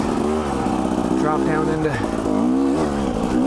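A 2019 Husqvarna TE300i two-stroke dirt bike engine revs and climbs in pitch in low gear on a spring trail ride, loud and close throughout, with a rider speaking briefly over it.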